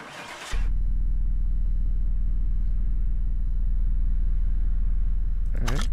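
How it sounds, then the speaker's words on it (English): Car engine starting in Car Mechanic Simulator 2018: a brief cranking burst, then a steady loud idle rumble that holds for several seconds, with a short rev at the end. "Start the car."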